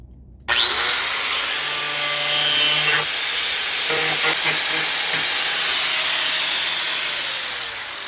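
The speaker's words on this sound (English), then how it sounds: "Now to grind it off on the other side. Cut this mother off." A power tool grinds off a screw on a Silverado door handle, starting abruptly with a loud, harsh, sustained whine and hiss that wavers in pitch, then tapers off at the end.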